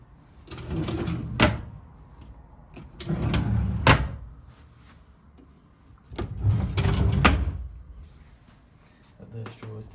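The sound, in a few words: wardrobe doors being opened and closed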